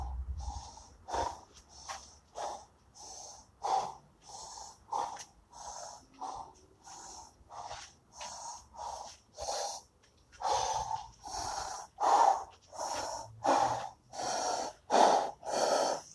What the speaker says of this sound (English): I gotta let that breath come down.